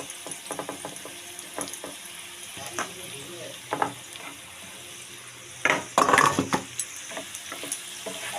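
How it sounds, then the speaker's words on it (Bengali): Raw rice poured little by little into a hot frying pan for fried rice, sizzling steadily with scattered scrapes of stirring and a louder burst of pattering grains near the end. "অল্প অল্প করে চাল ঢেলে দেবো।"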